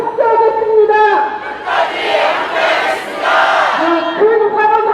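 Large crowd shouting together in unison at an outdoor Sewol ferry rally in Gwanghwamun, Seoul, loud massed voices swelling in bursts between stretches of an amplified speaker talking.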